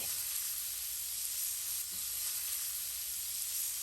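Herb and garlic compound butter sizzles on shrimp in a hot pan, a faint, steady hissing fry with no breaks and no voices.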